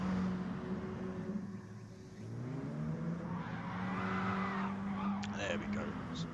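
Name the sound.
cars doing handbrake turns and burnouts in a racing video game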